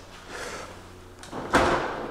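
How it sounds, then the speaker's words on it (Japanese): A soft-close sliding drawer in a new kitchen glides shut, with a quiet rolling slide followed by a gentle muted thump near the end. "ソフトクローズドアになっております"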